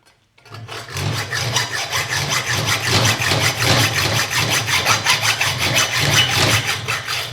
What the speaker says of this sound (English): Remove the burr.